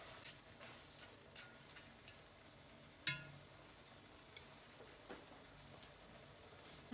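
Scrambled eggs and soft tomato stir-fry in a wok, a faint steady sizzle under scattered light clicks and one sharp clack of a utensil against the pan, with no voices.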